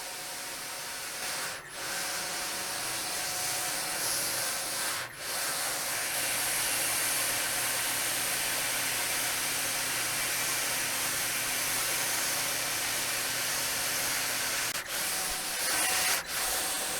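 A BadAss Wire Saw grinds through an object with a loud, sustained rasping hiss that runs almost unbroken, with a few brief dips in the middle and near the end.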